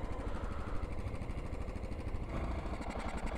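Motorbike engine running in a snowy outdoor setting: a steady, close, rough idle with a fast, even chugging pulse throughout, no voices.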